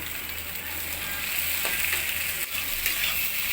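Steady, close sizzling of beef and egg frying in a hot pan, a continuous crackle with a few brief stirring scrapes, no talking.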